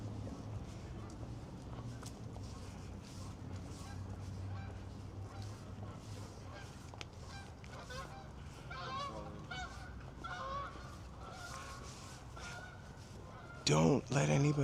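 A Canada goose honks repeatedly beside a city park lake in Los Angeles, sharp nasal calls scattered through the stretch and a loud close burst near the end, with people talking in the background.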